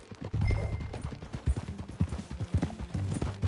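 Horse hooves clip-clop steadily while riding in Red Dead Redemption 2 on PS5, a close, rhythmic trotting beat with a faint tonal hum behind it and no talk.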